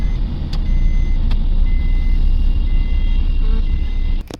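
A family car pulls up at a home gate, its engine a steady, fairly close low rumble for about four seconds, with a few faint reversing beeps, and then it cuts off abruptly.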